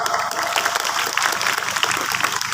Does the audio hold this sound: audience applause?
yes